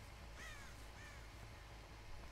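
A crow caws twice in quick succession in the horror video game Dead by Daylight, faint and distant over a steady low ambient drone.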